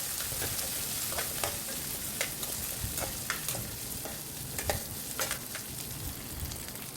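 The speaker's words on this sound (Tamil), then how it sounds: "இதை நல்லா கொஞ்சம் எண்ணெயிலே வதக்கி எடுக்கணும்" Curry leaves and salt sauté in hot oil, giving a steady close sizzle broken by scattered sharp crackles and pops, with no voices present.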